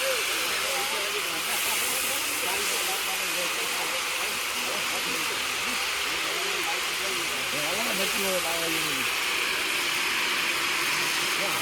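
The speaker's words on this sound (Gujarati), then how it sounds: "આ બધા જે મસાલો હતો એ જાય છે જીરો ને તેલ ગરમ થઈ ગયો છે" Cumin and spices sizzle in a large pot of hot oil while cooking Gujarati khari bhat for 300 people: a loud, continuous hissing crackle runs unbroken throughout, with a voice talking underneath.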